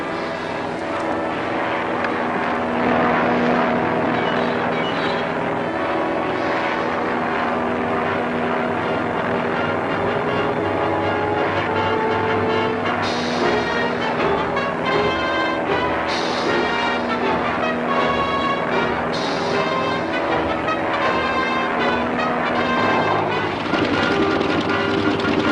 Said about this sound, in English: The plane's out of control.